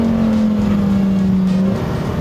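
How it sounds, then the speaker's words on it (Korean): A high-revving naturally aspirated Lamborghini Huracán STO V10 engine roars loudly and steadily as the car drives at speed on a race track, its tone sagging slightly toward the end. "엔진 사운드도 조금 더 날것으로 들이치거든요"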